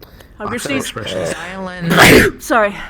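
A single sneeze bursts out amid casual group chatter during a livestreamed roleplay session, loud and close, with people talking just before and right after it.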